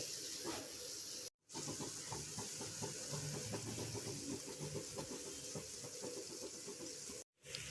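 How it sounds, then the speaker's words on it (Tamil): Urad dal jangiri frying in hot oil, a steady bubbling hiss that runs continuously at moderate level, broken by two brief silent gaps. "இப்போ ஒரு பக்கம் நல்லா ஃப்ரை ஆனதுங்க இன்னொரு பக்கம் திருப்பி விட்டுடலாம்"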